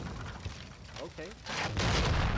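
In a Call of Duty Modern Warfare 2v2 match, a few muffled gunshot thumps give way to a sustained, louder burst of rattling fire, with a player's voice briefly heard over it.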